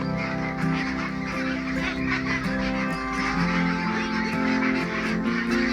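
Flock of 44-day-old meat ducks on a duck farm in Indonesia, a dense, continuous chorus of overlapping quacks and honks filling the whole stretch at steady loudness, with no voices.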